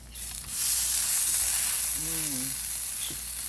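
A homemade tortilla hisses and sizzles steadily in a hot pan just after flipping, a close, even frying noise with a brief tonal squeak partway through and no speech.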